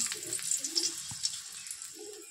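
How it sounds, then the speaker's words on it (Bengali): Dried red chillies sizzle in hot oil in a wok, giving a soft, continuous crackling hiss with a faint clink partway through. "কড়াইয়ের মধ্যে দিয়ে দিচ্ছি তেল গরম হয়ে গেছে। ফোড়নে দেবো শুকনো লঙ্কা"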